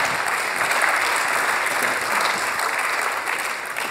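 An audience at a 2015 startup contest final applauds a participant with sustained, dense clapping that stays loud and even throughout.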